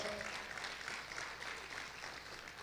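A church congregation claps in a steady, moderately faint wash of applause throughout, with a hint of voices mixed underneath.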